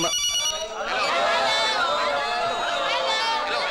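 A mobile phone rings in a film scene, a loud electronic ringtone with warbling tonal patterns that plays continuously, heard close and steady.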